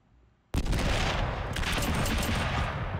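After half a second of quiet, a video game nade and fruit gun starts firing, a loud dense barrage of rapid shots that runs unbroken to the end with no talk.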